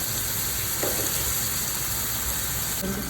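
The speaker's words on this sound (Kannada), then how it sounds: "ಈಗ ಈರುಳ್ಳಿ ಫ್ರೈ ಮಾಡ್ತಾ ಇದ್ದೀನಿ." Onions frying in a pan, a dense continuous sizzle with a faint clink or two, steady and close.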